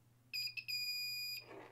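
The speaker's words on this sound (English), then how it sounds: "So you hear that there's a beep there." Continuity beep from a Pyle PCT-40 cable tester checking cable leads: a steady high electronic tone that breaks off briefly, then holds for about a second and cuts out, with a low hum underneath.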